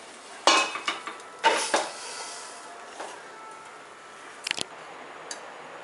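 A pot is set into a pressure cooker while cooking Tirunelveli-style vazhaikai puli koottu, giving two sharp metallic clatters close by, then softer clinks and a brief rattle near the end.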